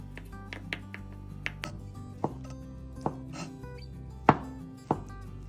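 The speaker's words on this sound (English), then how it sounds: "Roll it and cut as thinly as possible." A knife chops a rolled egg sheet into thin strips on a cutting board, a steady run of crisp, close taps with a few louder thuds toward the end, no talk.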